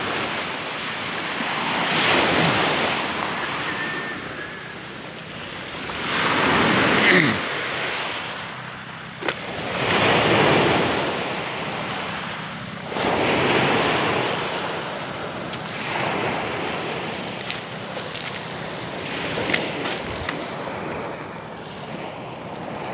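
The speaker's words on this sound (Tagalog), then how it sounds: "Lagi naman guys, maalon dito sa barangay namin." Rough sea waves surge and crash repeatedly on the shore of a coastal village, loud and close in broad washes every few seconds, with wind buffeting the microphone throughout.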